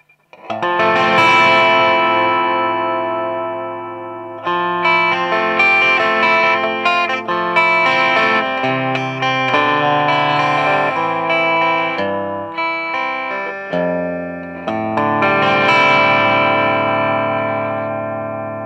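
Electric guitar played through a THD Univalve Class A valve amp in clean mode rings out in sustained chords and melodic runs, with bright, slightly brash harmonics, a short pause near the fourteen-second mark, then more strummed chords, no talking.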